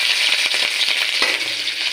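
Chopped garlic and green chili hit hot oil in a pan, giving a steady bright sizzle with a few scattered clinks and stirring rattles, close and continuous.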